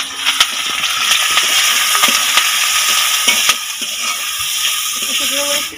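Chopped ginger, garlic and chili frying in a pan for a bamboo shoot dish, a steady close sizzle with faint stirring clicks throughout.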